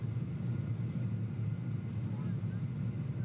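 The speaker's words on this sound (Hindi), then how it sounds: "खाड़ी के ऊपर से ही है ये विमान उड़ रहा है" A warplane flying high over the North Sea makes a steady, continuous low engine drone that holds even and unbroken throughout.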